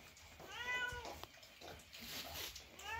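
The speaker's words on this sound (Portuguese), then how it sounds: "E a gata aqui, ó." A female cat on a farm meows several times at close range, drawn-out rising and falling cries with short gaps between them, while a person speaks softly nearby.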